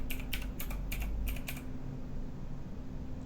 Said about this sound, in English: and then you type the name.